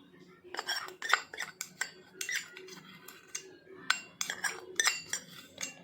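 Red chili powder and groundnut oil are spooned over khichiya bites, giving repeated close, light clinks and taps of a metal spoon against a dish and bowl in an irregular rhythm, with quiet room hum beneath.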